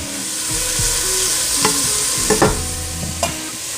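A garlic mixture is stirred in a hot pan for a Philly roast pork sandwich, with a loud, close sizzle and a few sharp utensil scrapes and clacks against the pan.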